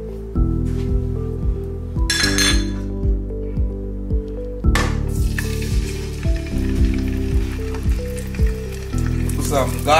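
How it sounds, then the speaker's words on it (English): Salmon fillets searing in oil in a hot pan give a steady, loud sizzle throughout, broken by sharp clinks of utensils against the pan. "We are going to pan sear the salmon."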